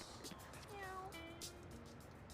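A cat meows several times in the video game No More Heroes on the Wii, a wavering mid-pitched call heard softly against a steady game background.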